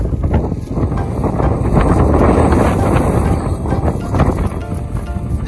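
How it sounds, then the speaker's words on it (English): Strong wind roars steadily across the microphone at a park, a dense, constant rushing with gusts swelling and easing. "we're here at the park, but it's a little bit too windy"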